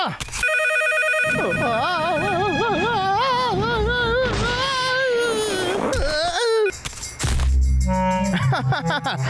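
A loud electronic ringtone warbles in a repeating melodic pattern, joined by whimpering, cry-like sounds and a burst of noise near the end.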